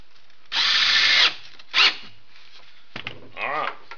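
A power drill drives screws into the wood of an Adirondack chair in short bursts, one longer whir and then a brief one, followed by quieter tool handling and a fading whine, close by with no talk.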